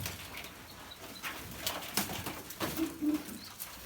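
Soft cooing from Mosul pigeons, a few low murmuring calls near the end, over faint outdoor rustling and light background noise.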